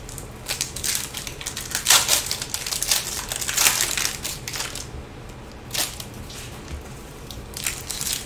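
Foil wrappers on packs of Topps Chrome trading cards crinkle and tear while being opened, in bursts of sharp, close rustling that come and go with short pauses between them.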